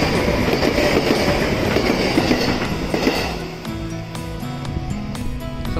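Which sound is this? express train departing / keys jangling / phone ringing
express train departing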